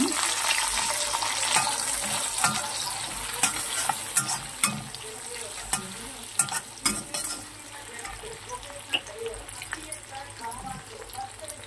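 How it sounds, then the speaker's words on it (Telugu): Chopped garlic with red and green chillies frying in hot oil, a steady crackling sizzle with occasional stirring clinks and scrapes, a voice talking intermittently over the cooking. "ఇప్పుడు ఆయిల్ వేసండి. అందులో కట్ చేసుకున్న వెల్లుల్లిపాయ ముక్కలు, కొన్ని రెడ్ చిల్లీస్ అండి, గ్రీన్ చిల్లీస్"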